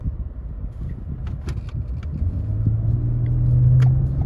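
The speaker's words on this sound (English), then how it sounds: "Good acceleration. You can hear the engine." An SUV engine accelerates with a deep, close rumble that swells and climbs in pitch toward the end, with faint rattles and clicks from inside the cabin and no talking.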